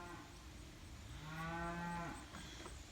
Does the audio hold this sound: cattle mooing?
yes